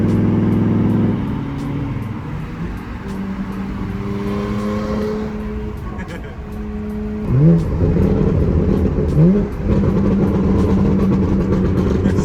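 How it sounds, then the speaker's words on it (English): A BMW M3 cruises on a Los Angeles freeway at night, its engine droning loudly and steadily from inside the car, with a couple of brief surges in revs and faint crackles from the exhaust, and no talking. "So many burbles."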